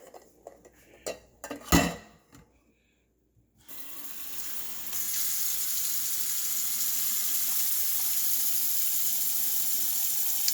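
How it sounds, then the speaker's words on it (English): Room temperature water runs from a tap into a pot of eggs in a home kitchen, a steady loud rushing stream after a few brief clanks of cookware, with no voices. "So I'm gonna put some water."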